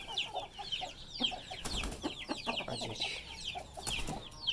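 A hen clucks repeatedly at close range in a backyard coop, with short throaty calls in an uneven rhythm, and high-pitched peeping runs through the calls.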